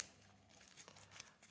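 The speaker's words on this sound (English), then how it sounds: "And shuffle again." Trading cards from a Dragon Ball Super card game deck being shuffled, giving soft, close papery riffling and crinkling ticks in a quiet room over about a second and a half.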